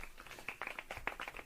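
A brief burst of several quick, faint hand claps with an irregular rhythm.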